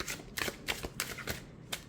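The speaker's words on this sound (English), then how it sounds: "you can also overhand it or side shuffle it" A stiff tarot card deck being shuffled by hand, overhand or side-style, gives a quick run of crisp riffling bursts, about six in two seconds, close and clear with no talking.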